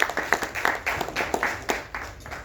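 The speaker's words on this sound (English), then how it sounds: "give a round of applause to our entire team" A small crowd at a film trailer launch gives the production team a round of applause, steady moderate clapping with some individual sharp claps standing out nearby, lasting the whole stretch.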